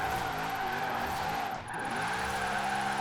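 Continuous game tire squeal and engine roar from an all-wheel-drive Lamborghini drift build in Forza Horizon 4, loud and steady with a brief dip midway, no voices.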